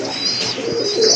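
Pigeons coo softly in a brief burst of low, throaty calls over a faint hiss of background noise, with no voices.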